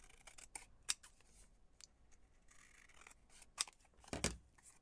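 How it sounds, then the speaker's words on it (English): Scissors trimming a paper label for a junk journal, close and crisp, with a run of quick snips and a louder final cut near the end, alone and without speech. "Let's cut this up a little bit."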